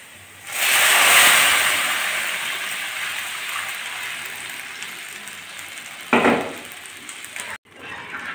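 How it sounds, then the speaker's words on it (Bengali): Tempering spices hit a pot of masoor dal with a sudden loud sizzle that settles into a steady frying hiss, then a second short sizzling burst flares near the end. "ডালটা ফোড়ন দিচ্ছি।"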